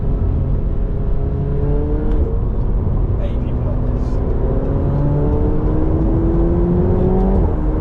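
A McLaren 720S supercar pulls away with a steady, loud engine drone and rising harmonic sweeps as it gains speed, continuous throughout and close to the listener.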